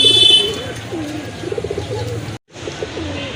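Rajgolla pigeons coo in soft, repeated rolling phrases close by, a brief dropout breaking the sequence before the cooing resumes.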